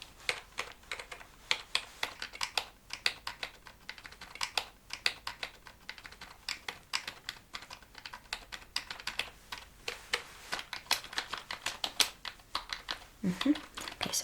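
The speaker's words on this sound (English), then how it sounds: "let me type everything in." Rapid typing on a computer keyboard during a whispered medical-exam role play, dense irregular key clicks and taps close up, continuous throughout with a faint thump near the end.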